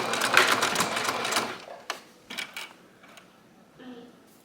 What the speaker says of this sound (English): I like to sew these ends shut as well.